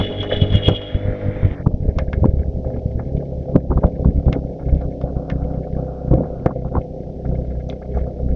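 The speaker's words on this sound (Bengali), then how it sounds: "ইঞ্জিন ডাকতেছে কি।" A jeep labours up a steep mountain road toward Sajek in Rangamati. Its engine roars as a loud, steady low drone with rumble, and wind buffets the microphone close by.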